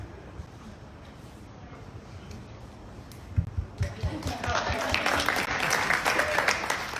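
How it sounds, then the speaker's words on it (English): Applause from an audience at a fine art event builds from quiet room noise into dense, fairly loud clapping over the second half, with some murmuring underneath. "My clap is really weak."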